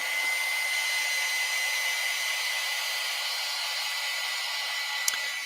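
A hair dryer blows on a watercolor and pan pastel painting, a loud, steady whooshing whine that holds constant throughout, close by and with no talking.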